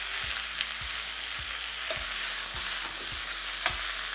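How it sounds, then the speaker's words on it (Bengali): Eggplant sizzles over a high flame while a spatula stirs it, scraping the pan in regular knocks about twice a second over a constant frying hiss. Soft music plays faintly underneath. "তার আগে চেষ্টা করবেন হাই ফ্লেমে বেগুনটাকে 2 থেকে 3 মিনিট ভালো করে কুক করে নেওয়ার।"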